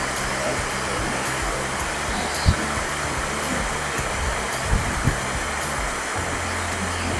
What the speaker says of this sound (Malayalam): അതീവ ഭംഗിയായ ഒരു വെള്ളച്ചാട്ടമാണ്